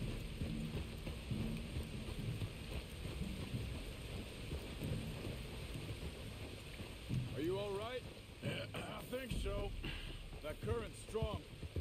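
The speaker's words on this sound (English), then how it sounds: "You were right about the damn rain." Steady rain hisses throughout a Red Dead Redemption 2 game scene, a broad wash of droplets under low rumbling, with a voice talking and bursts of music or other tones in the latter half.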